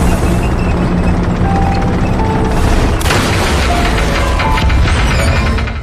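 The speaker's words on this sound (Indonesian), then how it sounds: "ada sesuatu yang meledak hebat di luar tank" A loud, sustained film explosion rumbles outside a battle tank, with a sharp burst near the three-second mark and dense booming, crackling debris and mechanical clatter continuing throughout.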